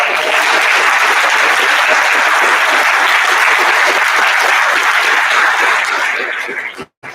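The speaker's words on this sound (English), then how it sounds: "Let's give one big round of applause to Rose and John." Loud, sustained applause from a large crowd at a school Veterans Day event, steady clapping filling the whole stretch before fading out abruptly near the end.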